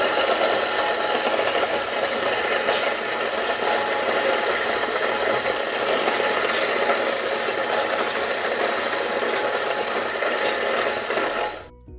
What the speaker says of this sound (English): plug this baby in and grind about 4 cups of corn. And it's going to be loud